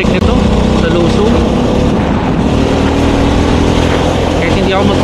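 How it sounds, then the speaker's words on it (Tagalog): A TVS XL100 moped engine braking while rolling downhill on a scenic road loop, a loud, rough, continuous engine drone mixed with heavy wind rush, close and steady throughout. "Malakas pala engine brake nito sa Lusong."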